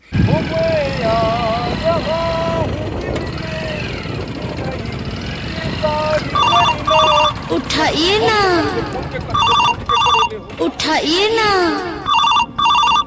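Telephone ringtone bursts repeatedly in a comedy sketch, loud, electronic trills over a background engine hum, with people talking through parts of it.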